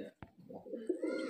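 A Murshidabadi Giribaz pigeon gives a soft, close coo lasting about a second, low and throaty after a brief click, with little else around it.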